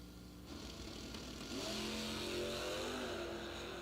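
Drag race cars, a Mopar and a Tesla, launch at the 2022 IHRA World Finals; a fairly faint engine rises into revving acceleration a few seconds in, heard from a distance.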